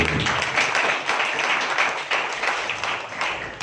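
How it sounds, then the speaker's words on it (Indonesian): Audience applause at a Karang Taruna youth organization awards event in a village hall, a dense, steady patter of many hands clapping at moderate loudness, with faint voices mixed in. "Tepuk tangan dulu."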